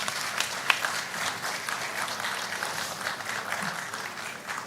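Sustained audience applause at a ministry launch event for a national AI strategy in Ghana, steady dense clapping from a large crowd filling the whole stretch without a break.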